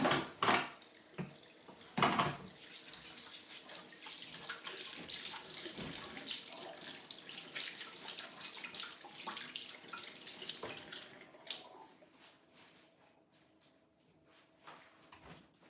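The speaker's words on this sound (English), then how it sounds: "Wash my hands quickly." Tap water runs steadily while hands are washed in a home kitchen during bread baking, with a few sharp knocks and clatters early on before the flow cuts off near the end, leaving quiet room tone.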